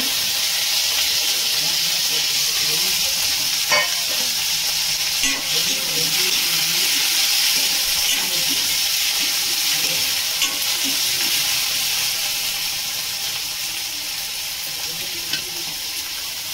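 Tomatoes cooking in a pan for a brinjal and green pavta rassa bhaji, a steady close sizzle and hiss running unbroken throughout, with occasional stirring clinks and no talk.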